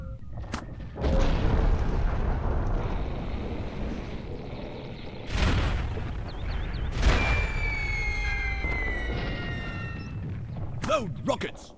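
Rockets fire and explode in Air Buccaneers, several heavy booms and whooshing blasts spread across the stretch with ringing, whistling tones after some hits, loud and close, with voices shouting in between.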